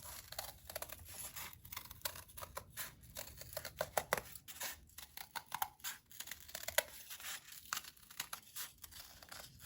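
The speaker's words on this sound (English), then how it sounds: "And then I will take my scissors, which is also another item you will need." Scissors cut around a cardboard circle that will become the backing for a small weaving loom, giving a steady run of close, crisp snips and crinkles with short pauses between cuts and no voices.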